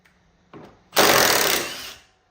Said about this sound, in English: you want to take an 18mm socket and an impact and remove these two strut mounting bolts